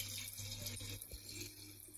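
Lukewarm water is poured into black carrot kanji, a soft, steady splashing stream heard faintly and alone for a couple of seconds.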